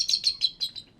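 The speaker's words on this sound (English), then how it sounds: "Most people, when they hear Atticus, they don't realize that's what bald eagles sound like" A bald eagle calls at a raptor center with a run of five high, thin chirping notes, loud and close at first, then trailing off quieter.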